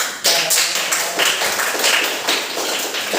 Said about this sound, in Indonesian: mari kita berikan aplaus sekali lagi ya